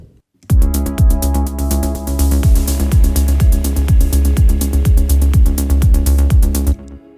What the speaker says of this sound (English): And then I had the idea of creating some glitchy kind of very fast delay.